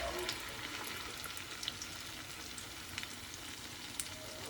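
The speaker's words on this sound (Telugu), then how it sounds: "మనం మీడియం ఫ్లేమ్లో పెట్టుకున్నాం అనుకోండి, మంచిగా ఫ్రై అవుతాయి అన్నమాట" Small items frying in oil over a medium flame for a prawn curry and vada meal, a steady close hiss and sizzle with occasional louder pops, heard alone without talk.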